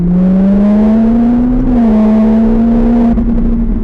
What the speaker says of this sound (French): Vas-y, accélère progressivement et remets bien tes roues droits et accélère fort.